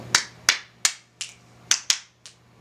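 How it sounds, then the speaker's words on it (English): Seven sharp hand claps in an uneven rhythm, close and crisp, each one fading quickly in a quiet room. "Let's do clap on."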